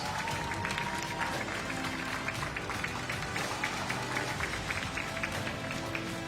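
Spectators at a 10m air pistol junior team final at the European Championship in Wroclaw applaud, a moderately loud, steady patter of clapping from a crowd lasting several seconds.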